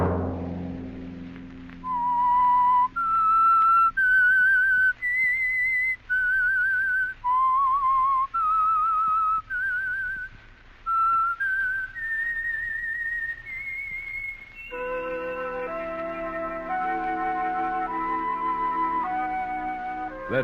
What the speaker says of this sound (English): Let that whistle be your signal for the Signal Oil program, The Whistler, each Sunday night at this same time.